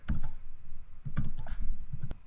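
Computer keyboard keys tapped in short irregular bursts while a command is entered in a plotting program's command window, close and fairly loud, with no talking.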